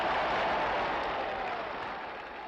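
A large crowd cheering and clapping after Dr. King's "I have a dream" speech, a dense wash of applause that stays loud and steady, then tapers slightly toward the end.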